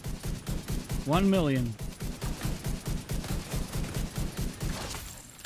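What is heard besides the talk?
gunfire from headshots in a video game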